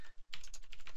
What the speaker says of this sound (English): talk about whoever's typing really loudly, because that's really off-putting